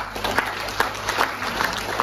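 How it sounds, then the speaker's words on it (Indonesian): Audience applause at a property sales talk, a short round of steady clapping from a moderate crowd. "berikan tepuk tangan berkali."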